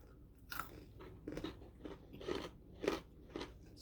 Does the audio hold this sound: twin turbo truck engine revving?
no